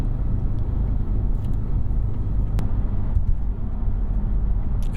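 A manual Audi RS4 B7 with a 4.2 V8 cruising on a road, heard as a steady, loud, low engine and road drone from inside or close by, with no talking.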